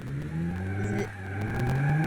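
Cars drifting and skidding in the BeamNG video game, with a revving engine and drawn-out tire squeals that rise and fall continuously in the foreground.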